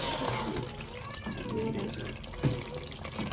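Water splashes and gurgles as it is poured into a pot of cooking mutton, a steady liquid flow with a couple of louder sloshes near the end.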